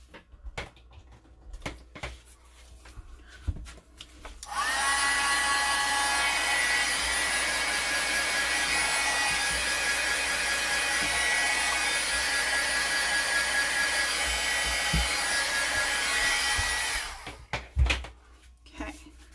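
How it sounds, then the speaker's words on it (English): A craft heat tool blasts a steady, loud whooshing hum for about twelve seconds while drying watercolor paint on stamped paper, with quieter handling noises and light talk before and after. "I'm gonna take my heat tool to this really quick and zap it"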